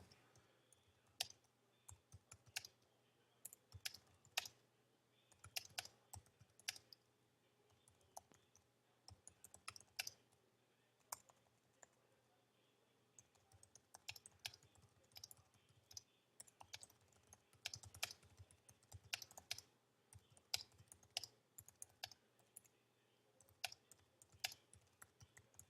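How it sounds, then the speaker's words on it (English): Typing on a computer keyboard, with quiet irregular bursts of light key clicks arriving in quick clusters and brief pauses between them, fairly close in a calm room with no talking. "Once we get done typing up this class"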